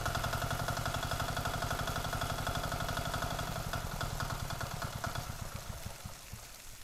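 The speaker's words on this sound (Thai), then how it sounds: "เครื่องยนต์14แรงม้านะคะถ้าใครมีเครื่องยนต์ดีเซลตัวใหญ่จะดีกว่านี้ค่ะ" A small 14-horsepower engine runs steadily with a rapid, even chugging beat, close and continuous, slowing slightly toward the end.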